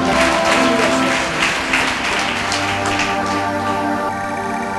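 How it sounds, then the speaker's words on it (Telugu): A church congregation claps loudly together, a dense burst of hand claps over sustained keyboard-like tones that carries on throughout and eases slightly toward the end. "గట్టిగా చప్పట్లు కొడదాం"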